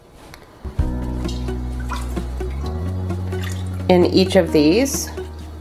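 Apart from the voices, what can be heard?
ladling cooled chicken bone broth into containers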